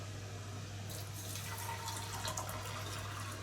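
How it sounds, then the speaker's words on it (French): Boiled water poured from a kettle onto green tea leaves in a teapot, a steady close splashing pour that starts about a second in and continues over a low electrical hum. "je verse l'eau sur le thé"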